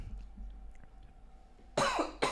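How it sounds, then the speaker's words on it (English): A person coughs twice near the microphone, a harsh burst and then a shorter second one, loud against a quiet room hum with no speech. "The cough is really annoying."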